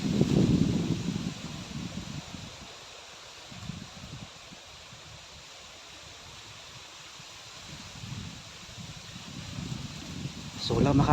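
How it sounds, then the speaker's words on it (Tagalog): Strong outdoor wind gusts and rustles steadily, forming a broad noisy wash that swells and eases, and someone talks briefly over it at the start and near the end. "Lakas ng hangin dito."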